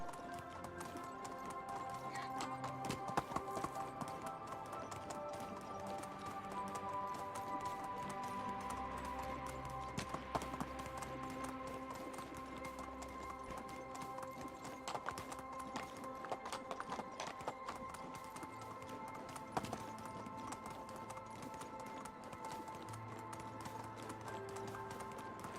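Hooves of a horse galloping in the video game Medieval Dynasty, a fast steady clip-clop rhythm that runs throughout, fairly quiet and mixed with background game sounds.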